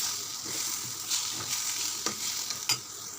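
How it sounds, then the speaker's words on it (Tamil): Tomatoes fry and are stirred in a pan for a chana masala gravy. A soft, steady sizzle carries occasional sharp scraping clicks from the spoon, close by and with no talk. "இப்போ தக்காளி ஆட் பண்ணிக்கலாம். இப்போ அகைன் நல்லா மிக்ஸ் பண்ணிக்கலாம்."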